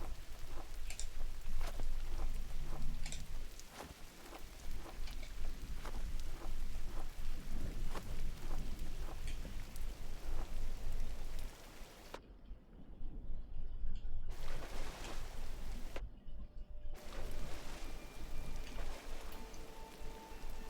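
Steady rain falls in the side-scrolling game GRIS, a dense loud wash with low rumbling undertones that cuts out briefly twice near the end before resuming.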